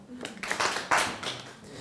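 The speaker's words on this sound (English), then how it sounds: "clap your hands." A handful of audience members at an English teachers' conference clap their hands in a short, scattered burst of claps close by.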